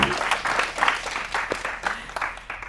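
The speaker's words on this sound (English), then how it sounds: "All right, we can clap now." Applause from the audience at a Santa Fe County candidate forum for the 2026 Secretary of State race, moderate and steady with scattered individual claps, a little chatter mixed in.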